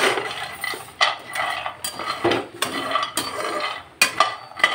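Homemade protein powder ingredients dry-roasting in a pan, stirred with a utensil that scrapes and knocks against the metal in repeated close, fairly loud strokes, alone without talk.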